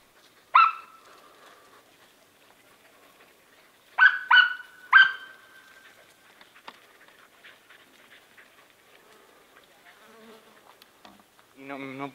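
Hunting dogs bark while flushing rabbits through thick brush: one sharp bark, then three quick barks a few seconds later, fairly close, with quieter rustling and a brief voice at the end.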